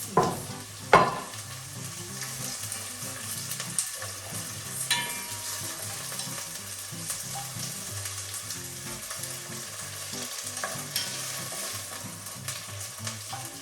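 Steady, close sizzling of onion and garlic frying in a hot pot for a Jerusalem artichoke dish, with a few louder pops and clatters of stirring scattered throughout.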